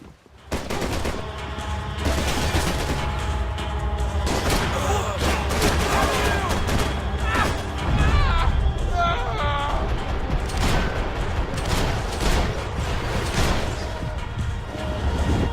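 Gunfire in the video game Max Payne 3, with dense repeated shots and bursts cracking over several seconds amid game sounds and scattered voices.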